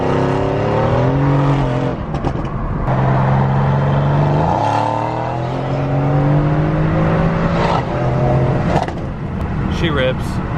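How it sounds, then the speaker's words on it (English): A tuned Mercedes-AMG W205 C63 with an aftermarket downpipe accelerates hard, its engine loud and close throughout. The revs climb steadily with brief dips at gear changes, and a voice speaks over it. "This is my first time driving the W205 C63 with tune and downpipe."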